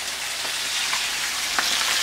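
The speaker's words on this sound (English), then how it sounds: "Fry my first set of fish, and I'm just finishing up for the second batch." Continuous loud sizzling and crackling of yellowtail snapper frying in hot oil for Jamaican escovitch fish, with occasional sharper pops.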